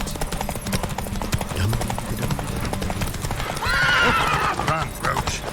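Horse galloping and neighing in The Witcher 3 video game, steady clip-clop hooves with loud game music and effects, then a strong whinny rising near the end.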